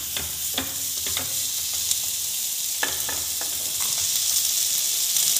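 Spices for Punjabi-style rajma masala frying in a pan with chili powder and chopped coriander, a bright continuous sizzle punctuated by several scraping stirs of a spatula, close and fairly loud with no talking.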